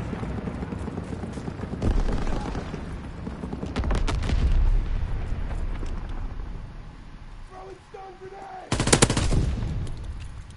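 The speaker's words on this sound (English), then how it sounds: "enemy aircraft gunner inbound." An enemy aircraft gunner strafes in the Call of Duty WWII video game, with bursts of rapid machine-gun fire and booming impacts that come and go, quieter stretches between, and a final loud burst near the end.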